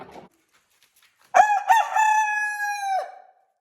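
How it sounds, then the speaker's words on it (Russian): A rooster crows once, loud and close, a long ringing call with a rising start and sustained harmonic tone, after a brief quiet. "Красиво, звонко поет петушок Американо."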